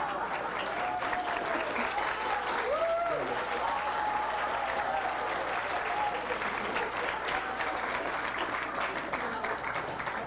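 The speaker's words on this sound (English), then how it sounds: "They're clapping. You have to respond to clapping." Audience clapping at a 1994 spiritual gathering, steady and moderately loud throughout, with a voice speaking over the applause.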